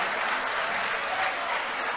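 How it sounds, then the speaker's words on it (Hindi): Audience at a mushaira, an Urdu poetry gathering, breaking into steady, dense applause, a sustained wash of many hands clapping at once that stays loud for the full two seconds. "जोरदार तालियां।"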